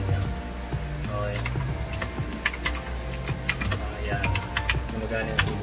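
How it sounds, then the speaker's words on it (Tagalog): Keys clatter on a keyboard hooked up to a Samsung DeX setup, an irregular run of close, light clicks that comes in bursts with a quiet background hum. "Gumagana yung keyboard natin."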